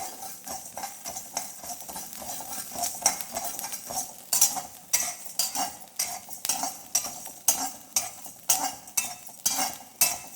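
Sambar podi ingredients dry-roasting in a pan, stirred by a metal spoon that clinks and scrapes in a steady rhythm, growing louder partway through, with no speech.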